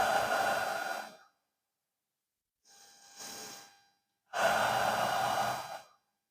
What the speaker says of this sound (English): We'll take a couple deep inhales and exhale.